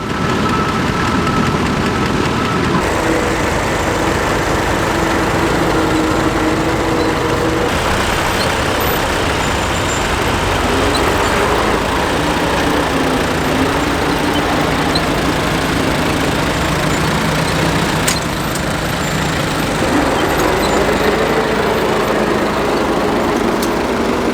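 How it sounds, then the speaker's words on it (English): A ploughing engine at a ploughing match drives back toward the gate with an International 1455 tractor assisting, giving a loud, continuous engine rumble and mechanical drone that holds steady throughout with no talking. "And here we've got the other ploughing engine making its way back to the gate"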